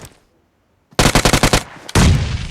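Automatic gunfire in PUBG Mobile on the Erangel map: after near silence, a rapid burst of about eight loud, close shots rings out, then a brief pause before another sustained blast of fire.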